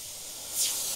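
Airbrush using a 0.3 mm needle with paint at a 1-to-1 mix lays down fine detail lines, giving a short steady hiss of spray that swells briefly in the middle, close and alone.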